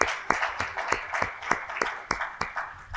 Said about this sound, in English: Can we give her a hand of applause as she joins us on stage?